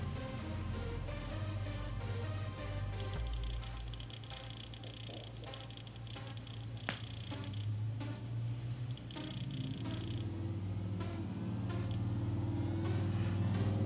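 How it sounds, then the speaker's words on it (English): A car passes outside, heard indoors as a steady low rumble with a faint fan-like hiss running through the whole stretch; no one speaks. "Sorry about that, you can hear the car."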